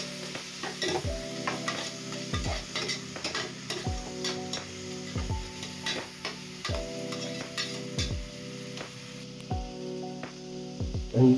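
Food sizzles in hot oil while a utensil scrapes and stirs the pan at regular intervals, close up over a steady frying crackle, during mutton biryani preparation.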